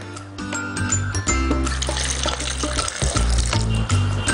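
Half a cup of water pours and splashes steadily into a sugar mixture for cooking, a continuous liquid rush with a low hum beneath it.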